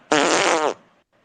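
A loud, close fart sound blares for over half a second, buzzy and steady before cutting off, likely blurted into an online call.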